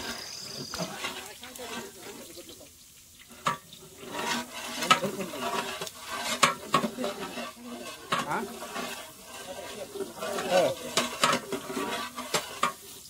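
A large pot of village-style mutton curry for about 150 people cooks and sizzles while a utensil stirs it in uneven scrapes and clatters, close and moderately loud, with faint background voices.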